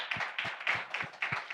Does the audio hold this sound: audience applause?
yes